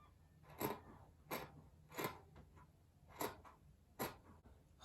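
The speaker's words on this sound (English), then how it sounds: "We are going to cut the princess dart now. Follow the bust span line you've marked." Scissors cut through fabric along a marked princess dart line in five evenly spaced, crisp snips, close and clear against a quiet background.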